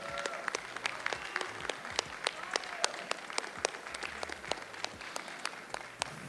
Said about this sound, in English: Let's give one more round of applause to our music producers.